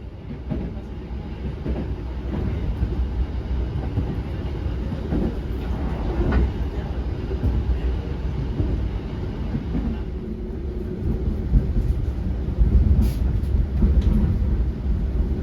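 The Malioboro Ekspres passenger train runs on the rails toward Blitar with a continuous low rumble and faint clacking of the wheels, heard steadily from inside the carriage with no talking.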